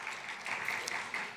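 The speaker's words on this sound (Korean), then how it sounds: "하나님께 영광의 박수 올려드리겠습니다" A church youth congregation gives a brief, steady round of clapping, moderately close and unbroken for the short stretch.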